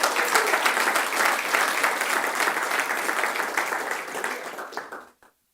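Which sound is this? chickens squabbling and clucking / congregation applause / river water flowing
congregation applause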